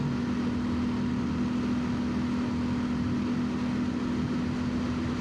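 A 2025 Kawasaki KLX230 motorcycle engine drones steadily in sixth gear while climbing uphill on a trail, a constant mid-pitched hum under heavy wind rush, with no clear change in revs.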